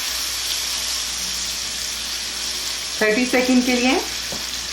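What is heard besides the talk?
frying masala spices in a pan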